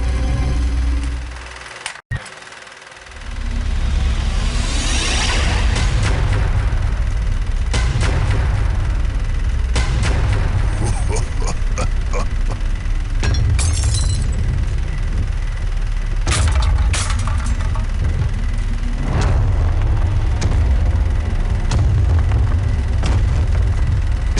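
Gunfire and explosions in a Dead Man's Hand video game cutscene, a loud continuous barrage of booms and shots over a heavy low rumble, with a brief drop near the start before the din resumes.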